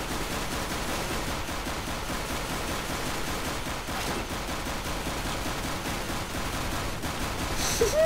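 Pistol gunfire in the ragdoll video game Flying Ragdolls comes as a dense unbroken barrage of shots under a loud hissing wash of game noise, steady throughout and ending in a brighter burst.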